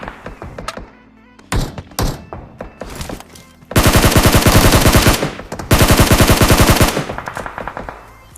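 Rapid automatic gunfire from the PUBG battle royale game, with a few scattered single shots and thuds followed by two long, loud, sustained bursts of close machine-gun fire.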